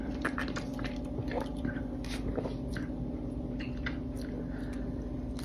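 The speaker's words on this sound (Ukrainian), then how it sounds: "Зараз самих помідорів без нічого посмокчу" Fresh tomatoes being sucked and eaten outdoors as rain falls: wet squishing, slurping and chewing sounds come close and irregular over a steady rain-like hiss, with no talking.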